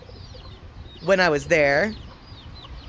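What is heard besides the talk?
chickens clucking in a park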